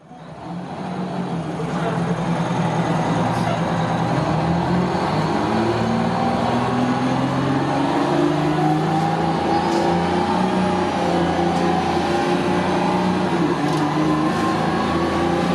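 City transit bus powered by a Detroit Diesel 6V-92 engine with an Allison HTB 748 transmission, engine droning steadily and rising in pitch as it accelerates through gears, loud and close throughout.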